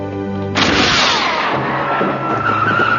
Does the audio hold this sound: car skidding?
yes